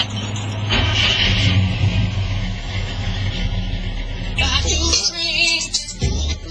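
A rebuilt Chevy engine revving hard, a loud rumbling idle that swells into sharper throttle bursts near the end, heard up close with no talk over it.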